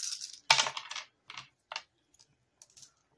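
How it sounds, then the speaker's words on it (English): Six dice tumble and clatter onto a surface in a Farkle dice game, a burst of close rattling clicks followed by a few smaller scattered taps as they settle, without talk. "So I'm rolling 6 dice."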